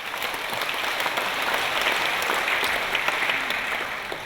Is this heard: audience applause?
yes